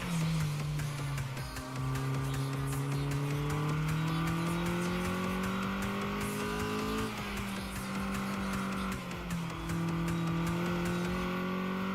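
A race car in the video game Redline Reverie is pushed to the limit, its engine droning and rising through the gears with shift drops, tires squealing and scrubbing under a steady, loud, continuous roar.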